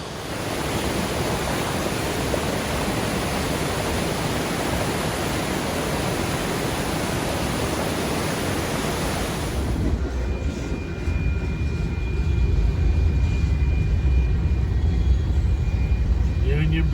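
Water cascading over a waterfall at Hedge Creek Falls in Northern California, a loud, steady broadband roar that continues throughout, with a deeper rumble taking over partway through.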